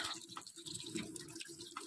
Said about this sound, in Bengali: সিঙ্কে জল চলে গেছে, এবার আমার বেসিন থেকে ঢুকছে